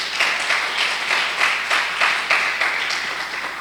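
A church congregation claps in praise: rhythmic group clapping with evenly spaced, pulsing bursts at a steady beat, fairly loud and close, with no talk over it.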